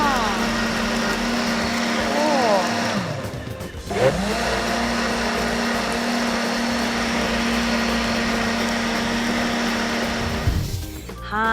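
A blender steadily grinding ingredients with five litres of water into an organic pesticide, a continuous loud motor whine running nearly the whole time, briefly dipping in pitch twice, with some background sound.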